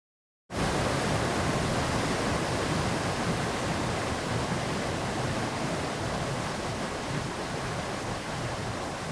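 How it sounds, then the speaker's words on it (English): Looping waterfall sound effect playing in Unity: a dense, constant roar of rushing water that starts abruptly and stays loud and even throughout. "now we have a waterfall"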